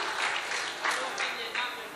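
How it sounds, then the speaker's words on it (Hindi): An audience at an Urdu poetry recital (mushaira) claps in a soft, steady wash of applause with a few louder surges. "एक बार आप तालियां बजा के हौसला दे दीजिए"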